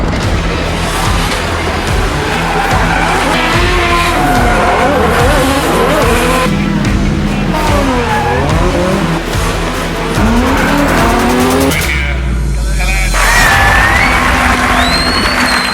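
Drift cars at an event in Ireland, engines revving hard and tires squealing and skidding continuously, with a crowd faintly in the background.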